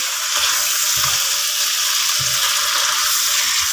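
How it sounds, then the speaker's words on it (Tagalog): Squid sizzling and frying in a hot pan while being stirred, a steady loud hiss with soft scraping stir strokes underneath. "Halukayin lang ng halukayin para hindi masunog."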